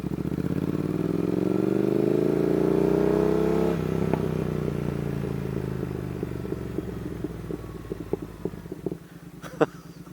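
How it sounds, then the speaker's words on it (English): A Triumph Thruxton R motorcycle revs up with a rising, sustained engine note, then settles into a burbling idle with sharp exhaust pops and crackles scattered through the second half, one louder bang near the end, heard close by in a quiet setting. "I'll just give you a good example of what I mean about the popping"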